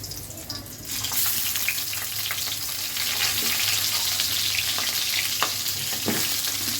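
Pangas fish heads frying in hot oil, a steady loud sizzle with occasional stirring clinks, close and continuous throughout.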